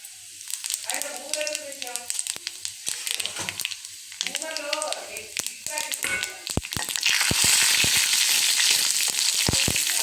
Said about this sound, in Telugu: ఇప్పుడు నూనె కాగిన తర్వాత దీంట్లో మనం మినప్పప్పు, ఆవాలు, జీలకర్ర యాడ్ చేసుకోవాలి